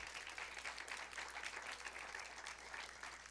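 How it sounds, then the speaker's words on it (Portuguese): Church congregation applauding during a sermon, a continuous wash of many hands clapping at moderate distance, steady and even throughout. "Uma salva de palmas a esse dom da vida."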